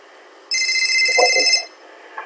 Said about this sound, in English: And you can hear the call ringing.